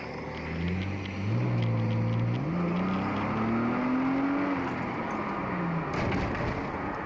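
A Nissan Maxima accelerates hard from inside the cabin, its engine note climbing steadily through the gears over a bumpy road, loud and continuous with no talking.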